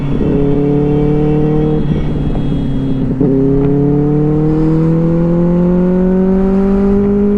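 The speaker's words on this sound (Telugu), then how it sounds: "బట్ స్టాక్ ఎగ్జాస్ట్ ఉంది, ఐఎక్స్ఎల్ ఉంటే ఇంకా ఫుల్ మజా వచ్చేది సౌండ్తోని" A Benelli 600i motorcycle engine with its stock exhaust revs loudly and close, a steady droning note that dips briefly, then climbs smoothly in pitch as it accelerates along an open road, with no one talking.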